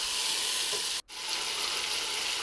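Finely chopped potatoes sizzle in hot oil with spices, a bright, close, continuous crackle that cuts out for a split second before carrying on evenly.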